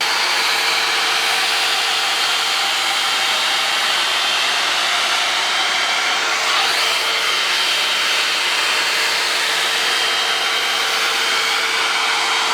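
A Cherry and Berry hot air brush runs steadily while drying hair, giving a constant close whooshing blower hum with a faint high whine, alone and without talk throughout.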